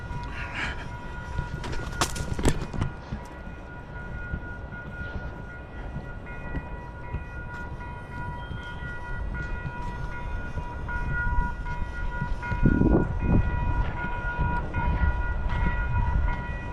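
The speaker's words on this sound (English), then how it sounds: "The ghost train." A train passes by on a walk in Dallas, with a steady rumble and rolling rail noise that swells again near the end, plus a few brief sharp clanks early on.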